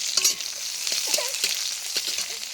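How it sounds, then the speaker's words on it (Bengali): Onions frying in hot oil in a wok, a steady close sizzle with scattered crackles and soft stirring clatter, no talking. "কড়াই তেলটাও তেতে গেছে। আমি এখন পেঁয়াজ দিয়ে দিচ্ছি,"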